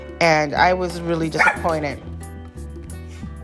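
A dog barks and yips several times up close, the sharp calls overlapping a person talking, then settling into quieter whimpers as the voice continues.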